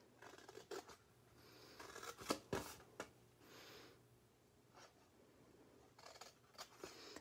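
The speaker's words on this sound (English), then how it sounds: "you're going to cut those corners off" Scissors snip the corners off a paper square in a quiet indoor craft setting, giving a few sharp, close cuts spaced irregularly between soft paper rustling, with no voices.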